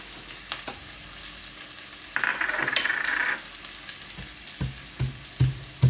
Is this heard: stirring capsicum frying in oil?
yes